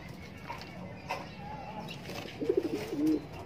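A racing pigeon arriving home after a 75 km flight from Tayabas, Quezon, cooing in a short run of soft, close coos over quiet outdoor ambience near the end.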